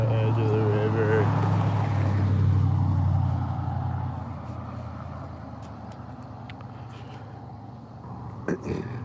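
A vehicle engine hums loudly up close, then fades into a steadier background rumble, with a few clicks and knocks near the end.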